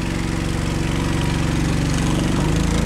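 A solar-powered boat's motor runs steadily at close range, a loud, even droning hum with a regular pulsing beat throughout, and no voices over it.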